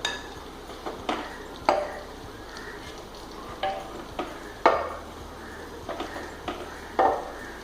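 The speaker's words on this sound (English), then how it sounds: "Now I will remove half of the rice into another bowl." Cooked rice from a prawn biryani is scooped into another bowl, with soft scraping and sharp metallic clinks of a spoon against the pot at irregular intervals, close and alone.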